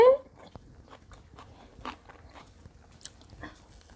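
A fish-shaped bungeoppang pastry is bitten with a sharp crunch at the start, followed by soft, quiet chewing and faint mouth sounds. Brief murmurs can be heard.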